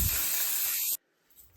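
A spray can is fired indoors in one loud, steady hiss lasting just under a second, then stops abruptly, leaving near silence with faint rustling.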